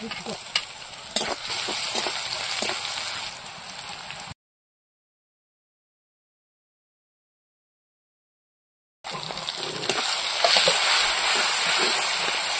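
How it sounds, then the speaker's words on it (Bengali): Onion sizzles and fries in hot oil in a pan, a steady crackle with stirring clicks that cuts out for a few seconds and then returns. "পেঁয়াজটা এবার একটু ভেজে নেব"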